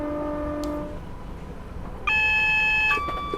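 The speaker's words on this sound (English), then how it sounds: "that was an AWS alarm, fixed actually, because it's warning us about the speed restriction to 60" An AWS warning alarm sounds in the cab of a Class 319 electric train, a steady electronic tone that starts suddenly and holds for about a second over low cab rumble, after a fainter beep earlier.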